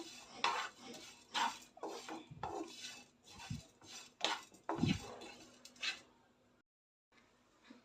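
Coconut, cumin, coriander, curry leaves and tamarind dry-roasting in a pan while a spatula scrapes and knocks the metal in a steady series of close clattering strokes, ending in a brief pause.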